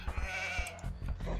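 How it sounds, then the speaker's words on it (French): Sheep in the video game Age of Empires 2 give a few short, wavering bleats at close range, with faint soft thumps underneath and no talking. "je vais récupérer les moutons en même temps"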